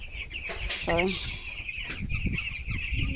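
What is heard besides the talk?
broiler hens clucking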